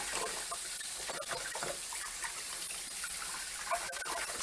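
Cold water runs steadily from a tap over fabric being rinsed of hand-wash soap, a continuous close splashing gush with no talking.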